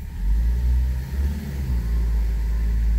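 A Ford Focus with a DPS6 dual-clutch transmission, engine given gas during a touch point learn, holds a loud, steady, close low rumble that swells slightly and dips briefly midway.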